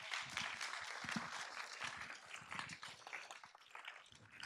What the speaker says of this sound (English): please give a round of applause to staff, volunteers, our interpreter, and our council